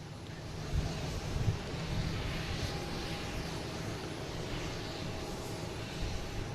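A jet airliner at Boston Logan airport gives a steady, broad, distant roar that swells slightly and holds, blended with gusty wind buffeting the microphone.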